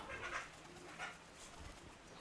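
Soft pigeon cooing, two or three low murmuring calls spread over a couple of seconds, faint against a quiet outdoor background.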